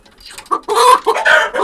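Chickens cluck and squawk up close beside a coop in a quick, excited burst of overlapping calls, loud and busy.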